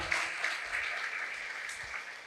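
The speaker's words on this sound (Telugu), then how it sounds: "సో సార్ గట్టిగా క్లాప్స్ కొట్టుకుందాం" Brief applause for a speaker at a youth awakening talk, an even patter of many hands clapping at moderate distance with no voices over it.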